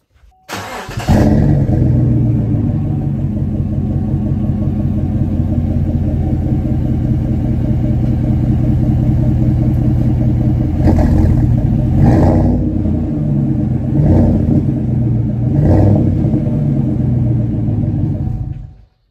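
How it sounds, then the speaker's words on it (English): A 2015 GMC pickup truck engine idles with a deep, steady rumble, then revs up several times in short bursts before settling back down. "I guess I can give you a little exhaust clip of that right quick."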